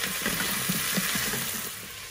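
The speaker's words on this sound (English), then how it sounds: "Just fry and mix them up for approximately 2 or 3 minutes" Beef with aromatics frying in a multi cooker, a steady loud sizzle throughout with soft scraping from stirring mixed into the crackle.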